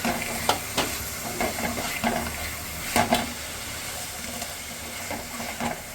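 Semi-fried prawns sizzling in thick tomato masala gravy for a Kerala-style prawn roast, a steady frying hiss with intermittent scraping stirs and clicks of a spoon in the pan.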